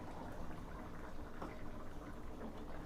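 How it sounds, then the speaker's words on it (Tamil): Ground masala paste and water pouring and bubbling into a simmering Chettinad chicken gravy in a pan, a soft continuous liquid splash and sizzle, faint and alone. "அரைச்சி வச்ச மசாலாவை ஊற்றுறேன்"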